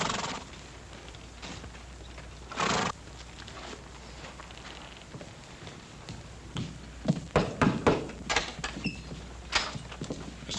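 Several cavalry horses walk in and halt, hooves clip-clopping irregularly on the ground with a few creaks, quiet at first and then clustering into louder, closer steps near the end.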